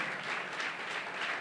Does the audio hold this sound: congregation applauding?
yes